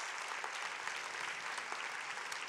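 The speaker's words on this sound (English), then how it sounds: "give Forever a huge round of applause" An audience breaks into sustained applause, a dense, even roar of many hands clapping that holds steady without pause.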